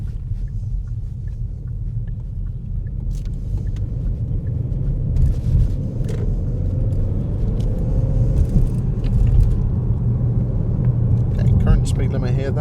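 Car rolling slowly along a road on a demo drive, a low steady engine and tyre rumble close by with faint clicks and small bumps, and no voices over it.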